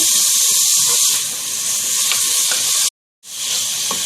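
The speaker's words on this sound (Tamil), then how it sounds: "தக்காளியை போட்டு நல்லா வதக்கிடுங்க" Tomatoes sauté in a pan for chicken biryani, giving a steady loud sizzle that cuts out briefly near the end before resuming.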